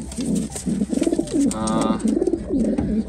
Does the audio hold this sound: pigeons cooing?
yes